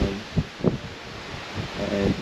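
Strong gusting wind buffets the microphone outdoors on a route heading back toward Chile, a steady broadband roar with small bumps and faint muffled voice sounds.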